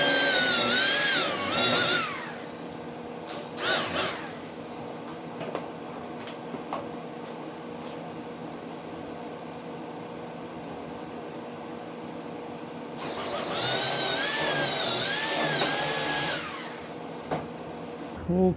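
Power drill whirring in two loud bursts with a steady hum in between, used while bolting down a wooden utility trailer frame outdoors.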